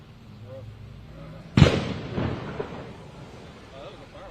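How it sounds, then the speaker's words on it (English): A single sharp firework bang bursts out partway through during a downtown street protest in Tennessee, followed by a brief crackling echo, with quiet voices murmuring in the background. "That was a firework."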